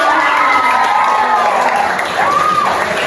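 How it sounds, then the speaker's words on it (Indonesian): Classroom students at a school in Medan applaud together, a dense, steady wash of clapping mixed with cheering and a few excited young voices, loud and close throughout. "Tepuk tangan dulu untuk mereka."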